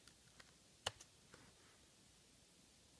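A few scattered keystrokes on a Mac computer keyboard, including one sharper click, sound faint and close against a quiet room.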